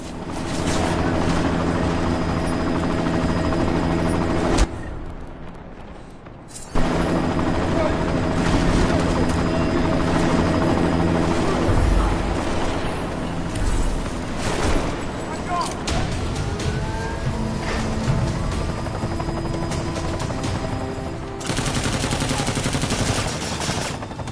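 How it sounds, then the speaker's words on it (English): A helicopter from the video game Deus Ex: Mankind Divided roars loudly and steadily throughout, mixed with rapid gunfire and explosive game combat noise. The din drops out briefly partway through. "You've got to stop that chopper."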